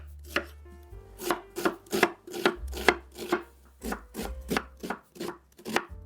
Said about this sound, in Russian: Одну крупную луковицу режу средними кусочками.